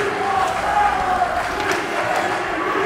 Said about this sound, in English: Mount Pleasant trying to do the Mamaroneck I Believe chant, but not really getting much volume on it